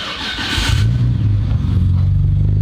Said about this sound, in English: first start, Midori engine, R34